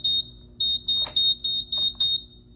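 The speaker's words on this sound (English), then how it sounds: "The siren will be going off right now, but not the fire alarm system." A Moose Z1100E security system siren sounds in repeated shrill electronic pulses, about seven short bursts in quick irregular succession, loud and close, with no talking.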